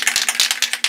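A can of Krylon webbing spray paint is given a quick shake, a brief close burst of rapid rattling clicks.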